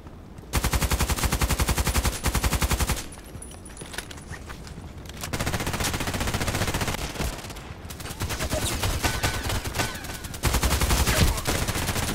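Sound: pistol gunshots in a sniper video game

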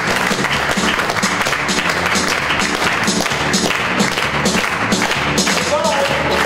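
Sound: applause

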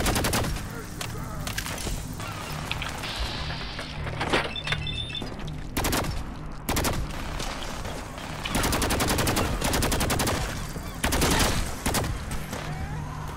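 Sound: automatic laser rifle firing in the video game Fallout 4

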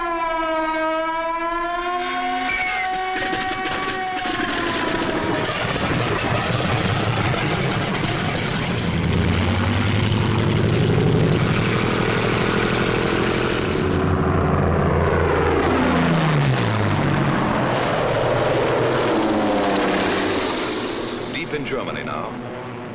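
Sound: WWII German Bf 109 and Focke-Wulf 190 fighter aircraft engines

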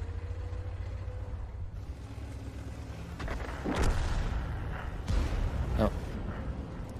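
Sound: Tiger II tank cannon firing in World of Tanks video game

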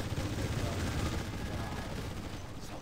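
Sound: gunfire in video game Command & Conquer Generals Zero Hour

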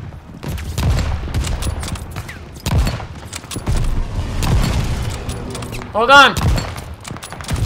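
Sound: gunfire in video game Call of Duty: Vanguard

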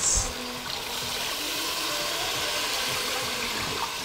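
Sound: water poured into cooking pot

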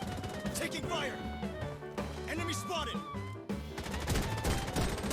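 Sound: gunfire in the mobile FPS video game BloodStrike

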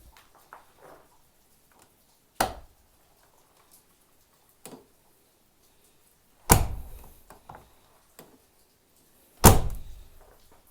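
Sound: Tofaş car door opening

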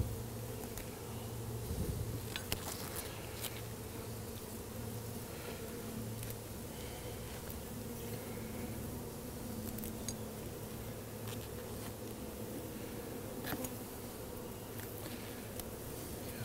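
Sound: honey bees buzzing around hive frames

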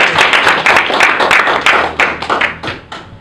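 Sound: audience round of applause

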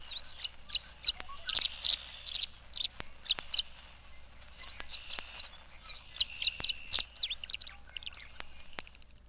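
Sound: tree swallows twittering around birdhouses

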